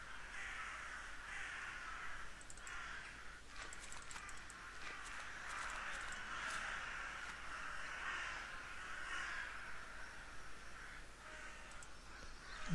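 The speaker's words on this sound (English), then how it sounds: "So the birds don't get particularly quieter." Crow caws from the video game The Last Door, several overlapping harsh calls repeating over a soft hissing, windy backdrop, steady and fairly quiet throughout.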